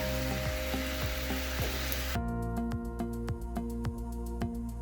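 Chicken 65 sizzles and crackles in a hot pan, with a loud frying hiss that settles into quieter bubbling and occasional sharp clicks.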